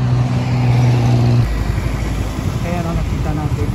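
A motorcycle engine hums steadily during a ride through Davao City streets, a close, continuous mid-low drone with a shift in pitch early on, while someone talks over it.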